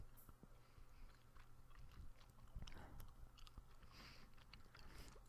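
Gum being chewed close to the mouth, soft wet smacks and clicks in an irregular rhythm, fairly quiet with no talking.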